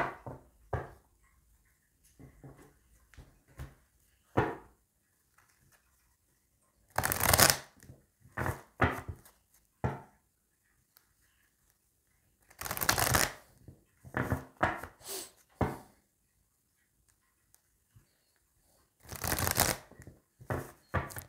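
Oracle cards shuffled by hand for a reading, in repeated bursts of close, crisp riffling and sliding separated by quiet pauses.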